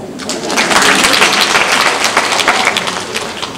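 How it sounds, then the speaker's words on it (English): Clapping from an audience at a school district professional development session, a sustained, fairly loud patter of many hands that holds steady throughout with no voices on top. "You can clap on that."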